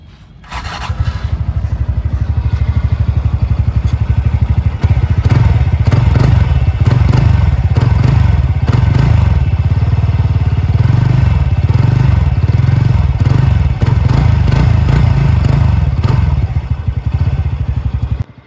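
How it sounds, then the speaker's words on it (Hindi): A 2024 TVS Ntorq 125 Race Edition scooter engine runs steadily with a loud low exhaust drone and rattly clatter, close up and continuous, with no talking. "तो एग्जॉस्ट साउंड तो दोनों की सेम ही मिलती है"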